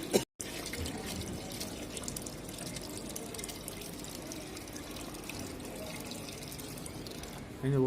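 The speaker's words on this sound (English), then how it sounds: "after that the water bath is filled with water" Water fills a laboratory water bath used for a cement soundness test, a steady rushing pour that runs unbroken at moderate level.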